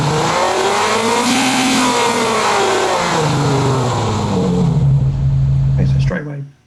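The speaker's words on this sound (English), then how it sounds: "So we've now got an engine onload and offload." Synthesized car engine under load from Krotos Igniter, a steady loud revving drone with rising and falling pitch sweeps, cutting off abruptly near the end.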